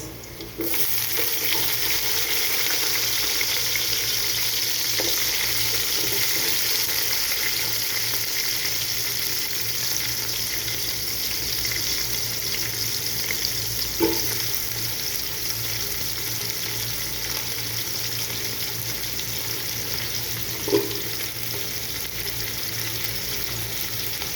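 Onions fry in a pan with a continuous loud sizzle that holds steady throughout, broken by a few faint clicks of a utensil against the pan.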